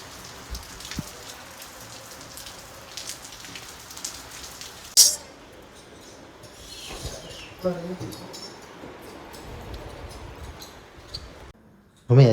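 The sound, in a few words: light rain starting to fall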